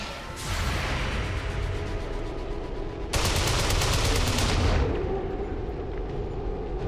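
Sustained automatic gunfire in the video game XCOM 2: War of the Chosen, loud and near, with a sharper, rapid rattling burst in the middle before fading into lower combat rumble.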